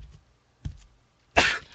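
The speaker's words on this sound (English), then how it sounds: "A coughing man." A man coughs a few times in the video game Ib, with two faint, soft coughs followed by one harsh, louder cough near the end, in otherwise quiet surroundings.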